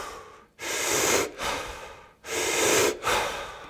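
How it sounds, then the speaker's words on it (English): Wim Hof breathing technique: two long, loud, forced inhales, each followed by a shorter released exhale, close to the microphone with no speech. "I've been using Wim Hof's breathing technique and it's pretty insane. Forced inhales and natural exhales."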